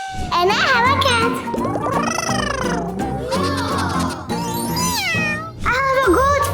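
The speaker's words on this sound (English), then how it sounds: "And I have a cat." A cat meows several times, its calls sliding up and down and loud and close, over a busy background of steady tones and a voice.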